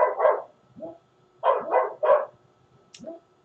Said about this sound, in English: My dogs are acting up, y'all.